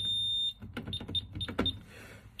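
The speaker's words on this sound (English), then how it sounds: "Turn off the alarm here." A building security alarm's steady high electronic tone with a second whistle above it runs for half a second, then cuts off, followed by short beeps and clicks as its keypad is pressed.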